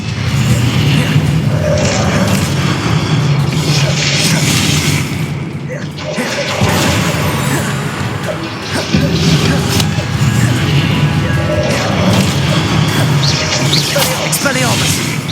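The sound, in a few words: Expelliarmus spell impact in video game Hogwarts Legacy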